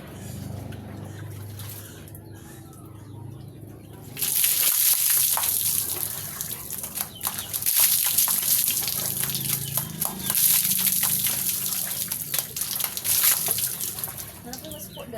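Water gushes steadily from a tap or shower during a bath, starting abruptly after a few seconds of low background and continuing loud and close, with voices talking over it.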